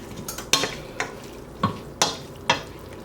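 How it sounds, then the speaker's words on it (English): Meat is stirred into softened vegetables in a pot, with five or six distinct scraping strokes of a utensil against the pan over a low, constant sizzle, close and fairly loud. "So now that the vegetables are softened, let's just stir the meat in."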